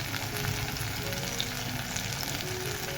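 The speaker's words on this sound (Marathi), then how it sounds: "तेल सुटेपर्यंत भाजून घ्यायचा आपण मसाला।" Chili powder masala roasting in hot oil for a spicy dry chicken dish, a steady, dense sizzle and crackle that holds evenly throughout, close and fairly loud, with no talk over it.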